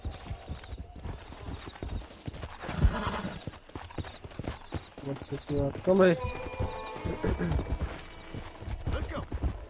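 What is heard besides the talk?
horse hooves and neighing in video game Red Dead Redemption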